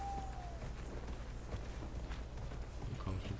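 Horse hoofbeats in the video game Dragon Age Inquisition, a faint steady clip-clop of walking hooves under game ambience.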